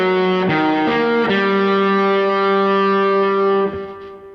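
Effects-laden electric guitar plays the second phrase of a tune, a few sustained distorted notes with reverb and echo, close and loud, ringing on before fading at the end.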